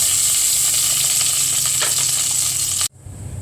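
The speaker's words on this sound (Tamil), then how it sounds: "ஒரு குக்கர் வச்சுட்டு அதில் நல்லெண்ணெய் ஊற்றிக்கலாம். பட்டை, சோம்பு, பிரிஞ்சி இலை போட்டு வதக்கிடலாம்." Whole spices of cinnamon, fennel and bay leaf sauté in sesame oil inside a pressure cooker, giving a steady close sizzle and crackle that cuts off abruptly near the end, leaving a faint hiss.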